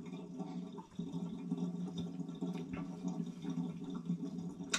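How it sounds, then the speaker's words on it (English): Liquid draining from a Muntons wine fermenter during home brewing of a raspberry ripple porter, a faint continuous trickling and gurgling with occasional small drips. "the noise you can hear is me just draining the Munton's wine fermenter"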